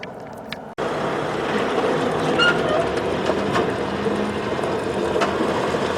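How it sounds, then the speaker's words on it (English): A westbound BNSF freight train of empty hopper cars rolls past steadily and loudly up close, a continuous rumble with wheel clatter that starts abruptly after a short quieter moment and holds for the rest. "Westbound empty hopper train that is coming."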